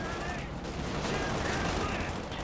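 Rapid bursts of small-arms and machine-gun fire from a Company of Heroes 2 battle as Grenadiers are shredded at close range, a dense crackling volley under steady game ambience.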